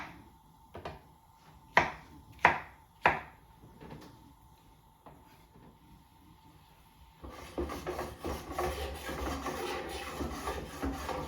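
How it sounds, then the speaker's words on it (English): A knife chops peaches into chunks on a cutting board, giving a few sharp, separate thuds and taps spaced across the first few seconds, followed by a busier, softer clatter of kitchen noise. "So now let's chunk up the peaches."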